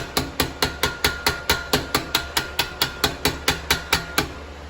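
A hammer strikes small scrap metal pieces at a fast, steady rhythm, about four sharp, ringing metallic blows per second, loud and close, with no talk.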